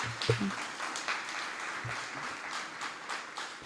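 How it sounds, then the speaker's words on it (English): Applause from a graduation audience at a summer school ceremony, honouring a teacher and the marching band; steady, moderately distant clapping that fills the whole stretch without talk. "Let's give another round of applause to our Mr. Smith and the marching band"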